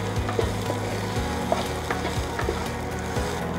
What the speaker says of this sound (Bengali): আর একটু সানরাইজ লঙ্কার গুঁড়ো দিয়ে এটাকে আমি একটু ফ্রাই করে নিলাম